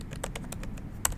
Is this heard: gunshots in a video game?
no